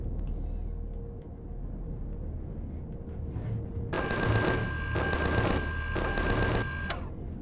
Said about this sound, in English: the auto turrets definitely be holding it down on the ship